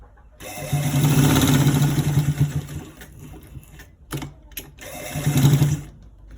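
A sewing machine runs down a stripe on the side of trousers in a long, loud, close burst of rapid stitching, then drops to softer stops and starts before one more fast run.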